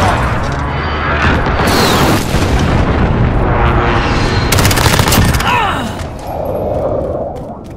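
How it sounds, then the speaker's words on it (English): Precision airstrike explosions in a Call of Duty match, heavy booming blasts and cracks rolling one after another, loud and dense with gunfire mixed in, fading toward the end. "Enemy precision airstrike inbound."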